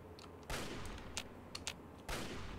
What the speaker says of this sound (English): Somebody's shooting over there.